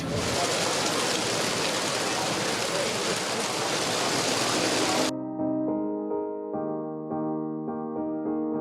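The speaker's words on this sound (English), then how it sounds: "it's starting to rain now, so thankfully we've got our rain jackets too" Steady broadband rain hiss falls outdoors in London for about five seconds, then gives way abruptly to a quieter tonal background.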